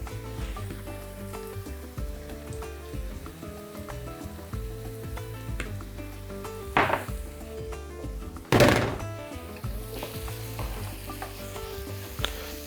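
Marinated chicken thighs sizzle steadily in a pan, close and continuous. Occasional louder bursts of spatter and wooden stirring thunks rise over the hiss.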